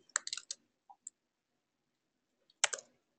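A computer mouse is clicked while editing in ATLAS.ti 8 on Windows, giving faint, sharp clicks in a quick cluster, a few isolated taps, then a pause and another short burst of clicks in a quiet room.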